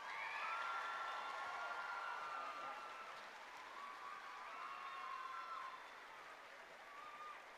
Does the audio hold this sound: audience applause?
yes